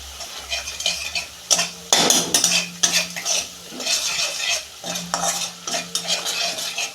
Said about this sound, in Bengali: দু মিনিট আমি মশলাটা কষতে নেব।